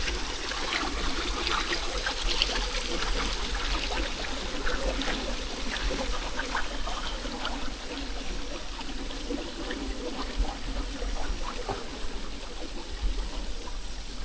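Steady running river water babbles and trickles continuously, with a constant hiss and no voices, like a stream flowing close by.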